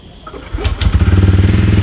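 A 2026 Ronin Agonda motorcycle engine catches on its electric self-start after a short crank, then settles into a loud, close, steadily pulsing idle.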